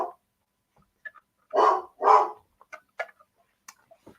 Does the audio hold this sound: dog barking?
yes